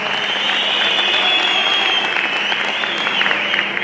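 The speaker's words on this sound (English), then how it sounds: "Let's give him a round of applause." Sustained applause from a large audience fills the hall at a men's conference, steady dense clapping throughout without a break.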